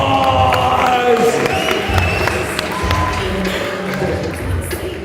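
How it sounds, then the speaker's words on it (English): A seminar audience cheers and claps for a speaker, a loud wash of crowd noise and applause with voices and musical tones mixed in throughout. "Give the man a round of applause."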